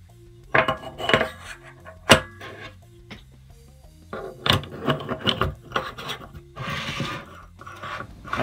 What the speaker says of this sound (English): you can hear how smooth the threads are when screwing them into the head